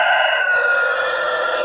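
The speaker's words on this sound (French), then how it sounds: "le coq qui vient de chanter" A rooster crows in a backyard poultry flock, one loud, close, sustained call that fills the whole moment with no talking.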